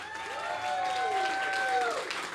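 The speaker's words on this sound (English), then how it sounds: "Big round of applause for Hal Lublin" Audience applause closing a live comedy podcast show, a steady wash of clapping with a few whoops and whistles rising over it, fairly close and sustained throughout.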